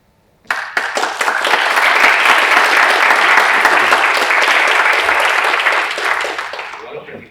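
Audience applause breaks out at a cybersecurity talk on cyber-espionage cases, a dense, steady wash of many hands starting abruptly, holding loud for several seconds, then tapering off.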